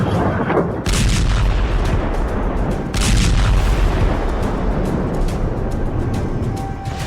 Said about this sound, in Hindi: खुर्रम शहर मिसाइल से निकले क्लस्टर बम जमीन पर क्या कोहराम मचाते हैं